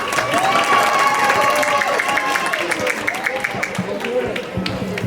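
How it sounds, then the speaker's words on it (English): A crowd at a STEAM festival claps and cheers for a student robot team after their presentation. Mixed applause and crowd noise runs under a voice speaking, with whistle-like tones weaving through. "One more round of applause for them,"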